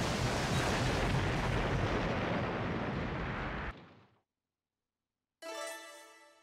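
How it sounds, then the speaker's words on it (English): In Naruto Ultimate Ninja Storm 2, a giant fiery paper bomb explodes in a loud, sustained roaring blast that cuts off abruptly into silence, followed by a short bright ringing tone. "After he perishes in a giant fiery paper bomb explosion."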